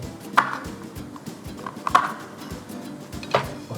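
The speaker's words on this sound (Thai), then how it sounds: "ระหว่างนี้หั่นเตรียม" Steady knife chopping on a board, a run of quick dull taps with a few sharper knocks standing out.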